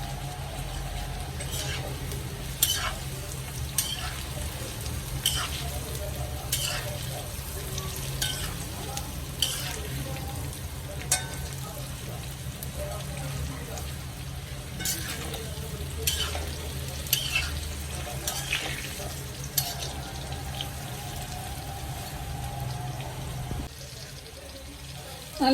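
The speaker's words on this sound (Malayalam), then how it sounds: "ഇനി നമുക്ക് ഒന്നുകൂടെ ഒന്ന് വറുത്തെടുക്കാം." Tapioca pieces crackle and sizzle steadily in hot oil during a second frying for crispness, with periodic scraping stir strokes from a spatula over a constant low frying hiss.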